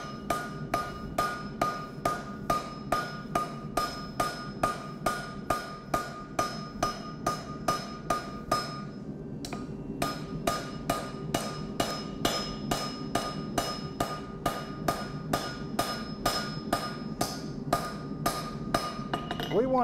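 Hammer smoothing hot Damascus steel on an anvil, a long run of regular, evenly spaced metallic strikes, close and loud, with a short pause midway before the rhythm resumes.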